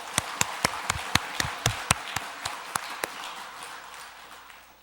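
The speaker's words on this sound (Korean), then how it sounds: "예수님을 다시 살리신 우리 하나님께 영광의 박수로 올려드리겠습니다" Church congregation giving praise claps: a dozen sharp, evenly spaced hand claps in a steady rhythm, fairly close, fading away in the last second with no talking over them.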